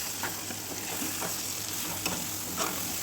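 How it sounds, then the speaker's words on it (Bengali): Chili, coriander and turmeric powder masala being stirred in a pan for chicken biryani, giving a steady low sizzle with soft scraping strokes of the spoon recurring every half second or so, close and continuous without talk. "আবারও আমি ভালো করে নাড়াচাড়া করে নেব।"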